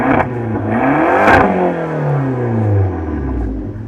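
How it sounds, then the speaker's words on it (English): Engine of a 2019 Fiat 500 Abarth revving loudly up close, with a sharp blip that climbs and falls, followed by a long descending rev and rumble as the engine settles back toward idle. "Let's give it some revs."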